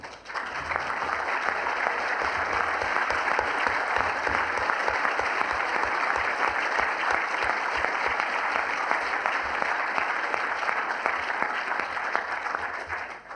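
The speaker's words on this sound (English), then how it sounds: "Thank you, but please reserve your applause to the end." Sustained audience applause at a university debate on the resurrection, a dense, even roar of many hands clapping continuously for over ten seconds, loud and full throughout before trailing off at the end.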